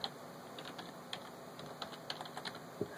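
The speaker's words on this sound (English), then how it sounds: "We're going to go ahead and enter your password." Keys tapped on a computer keyboard while a password is entered during Raspberry Pi 2 remote desktop setup: a quick irregular run of light clicks, close and fairly quiet, with no talking.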